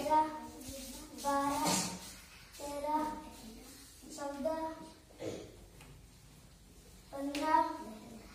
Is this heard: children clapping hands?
yes